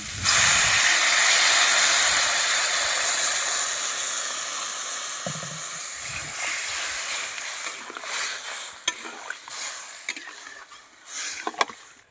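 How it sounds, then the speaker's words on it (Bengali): Water poured into a hot pan of fried spices, potatoes and taro makes a loud, broad steaming hiss at first, then gradually fades into a softer simmer with a few scattered clinks and bumps. "এবার আমি জল দিয়ে নিচ্ছি"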